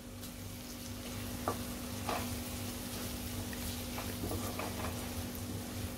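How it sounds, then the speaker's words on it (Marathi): Ground spices, homemade Koli masala and coriander-cumin powder, being stirred as they fry in a pan for chana palak, a steady soft sizzle with occasional scraping stirs and a low steady hum beneath. "मिक्स करून घ्यायचे मसाले चांगले।"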